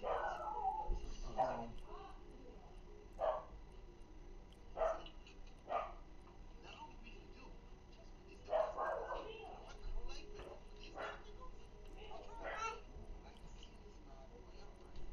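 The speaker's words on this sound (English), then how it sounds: "doggy being noisy" A dog barks and yips in short bursts at several points, with occasional whimpering between, heard somewhat in the background under ongoing talk and game sound.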